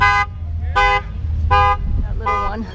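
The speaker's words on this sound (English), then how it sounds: "he set the alarm off" A car alarm sounds at an exotic car show in Palm Beach, Florida: four loud, harsh electronic blasts in a steady on-off rhythm, near and outdoors with crowd murmur between pulses.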